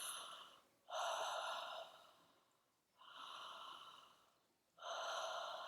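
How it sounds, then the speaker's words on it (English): Relaxed breaths are taken close to the microphone, three long airy inhales and exhales in an even, unhurried rhythm with short pauses between them. "So just relaxed inhales and exhales."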